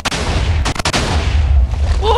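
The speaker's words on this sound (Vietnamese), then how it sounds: "Ôi pháo bông nào ở đây trời luôn" Fireworks exploding in Minecraft during a TNT-filled prank: a loud run of sharp booming bursts, several close together near the start, then a rumbling tail with faint crackle fading at the end.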